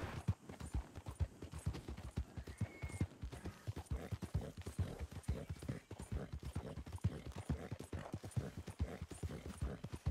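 Horse hooves in Red Dead Redemption 2, a steady, rhythmic clip-clop of a horse walking at close range, even and continuous throughout with no speech over it.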